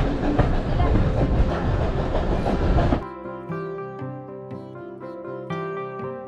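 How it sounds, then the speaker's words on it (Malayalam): A steam train carriage on a Windermere-area line rumbles and clatters along the rails for a few seconds, loud and close from inside the compartment, before music takes over. "നല്ല കാഴ്ചകളൊക്കെ സമ്മാനിച്ചുകൊണ്ട് ട്രെയിൻ അങ്ങനെ മുന്നോട്ട് പോയിക്കൊണ്ടിരിക്കുകയാണ്"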